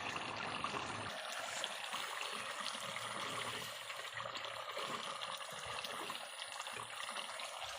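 Broth pours into meat frying in a pan, a continuous rushing splash of liquid holding steady for several seconds with no talk.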